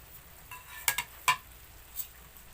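Sautéed potatoes tipped and stirred into simmering Filipino-style corned beef in a pan, a few sharp scraping clatters of spoon on pan over a soft, faint sizzle.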